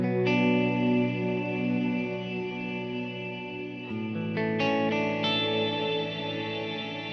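Sustained electric guitar chords through a Kemper bloom reverb, washed in lush, swelling reverb, with a new chord struck midway and a shimmering tail, no talking.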